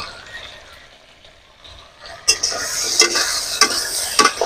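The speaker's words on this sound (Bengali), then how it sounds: "পেঁয়াজের সাথে আলু আর ডাঁটাটাকে আমি একটু ভেজে নেব।" Potatoes and vegetable stems fry with onion in a pan. The sizzle starts quiet, then jumps loud as they go in, and sharp spatula clacks and scrapes mark the stirring.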